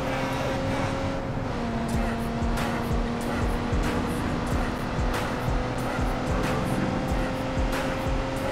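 Engine of a beat-up, damaged car in the Watch Dogs 2 video game, a steady loud drone that rises as it slowly accelerates, with tire squeal and race-car whine running continuously throughout.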